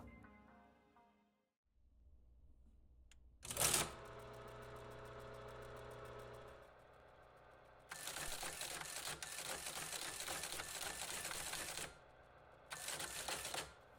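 A Teletype printer driven by an Arduino starts up with a motor hum and a loud mechanical clunk, then runs in sustained bursts of dense rapid clattering separated by brief pauses, close and mechanical with no talking.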